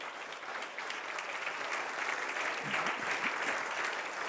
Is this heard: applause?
yes